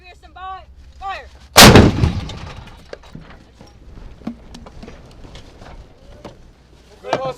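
A tank cannon fires a single loud, booming shot with a long rumbling tail during a combat mission, after brief commands are shouted; clattering and movement noises follow and voices speak in the background.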